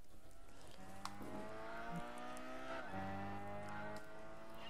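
A racing car engine in Gran Turismo 6 drones steadily, its pitch stepping up and dropping with gear shifts, loud and continuous with no talking.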